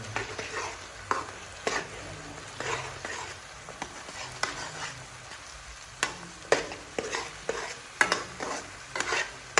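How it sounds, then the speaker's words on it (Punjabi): Onions frying and being stirred in hot oil for a mutton curry: a steady sizzle runs under repeated scraping and clinking strokes of a spoon against the pan, close and moderately loud, with no talking. "ਪਿਆਜ਼ ਨੂੰ ਹੁਣ ਆਪਾਂ ਚੰਗੀ ਤਰ੍ਹਾਂ ਭੁੰਨ ਲੈਣਾ"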